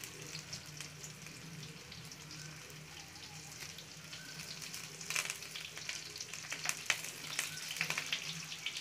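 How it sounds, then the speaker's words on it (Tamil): Curry leaves and coriander crackle and sizzle in hot oil during tempering for a Tamil fish curry, a soft steady frying hiss with sharper pops and spatters growing busier toward the end. "தாளிக்கும் போது கருவேப்பிலை கொத்தமல்லி அதனால தானே போடுவோம்"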